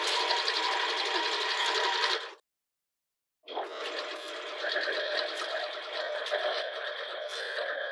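A sewing machine runs an extra row of top stitching along a seam of a cloned sports bra: a loud, close, steady whir of stitching, a stop of about a second, then another long continuous run.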